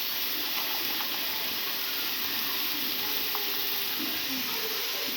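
Chopped onions frying in hot oil in a pan after turmeric powder is added, giving a steady, close, even sizzle with faint stirring, and no voices.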